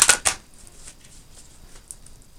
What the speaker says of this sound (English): Let me give them another shuffle.